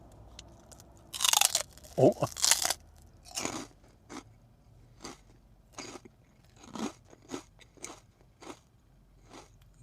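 Pork rinds crunched and chewed as a late-night snack while camping in a Texas Roadhouse parking lot, loud close bursts of crunching followed by a run of softer, rhythmic chewing bites; a brief voice is heard.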